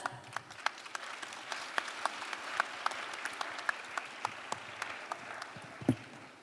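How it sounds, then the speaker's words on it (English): Audience applause welcoming a former government minister at a leaders' session of an international conference, sparse claps building into a steady, moderately distant round of clapping from a seated hall, with no talking over it. "please welcome His Excellency, former Minister Myung-hwan Ryu, with a big round of applause"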